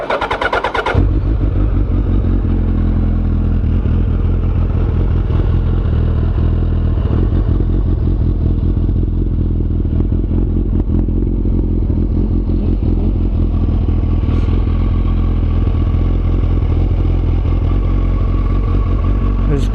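First-generation Suzuki Hayabusa sport bike on its stock exhaust, idling slightly high after a start, with a loud, close, steady engine rumble that holds evenly throughout.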